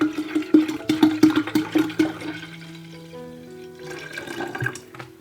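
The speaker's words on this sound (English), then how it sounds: "you can just slosh in another litre of homemade cider" Homemade cider is sloshed from a container into a vinegar jar, a close, gurgling liquid pour with bubbly glugs that settles into a quieter trickling fill.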